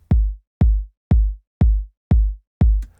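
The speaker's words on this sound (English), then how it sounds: "we have the mi-hi kick" A Mi-Hi kick drum sample repeats six times at an even pace, each hit a deep, punchy thump with a sharp attack and short booming decay, loud and dry with silence between hits.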